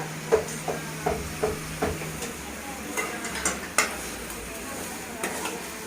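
Tomatoes with salt sautéing in a pan, a soft sizzle under repeated spoon taps and scrapes against the pan at an uneven rhythm, heard close with no talk.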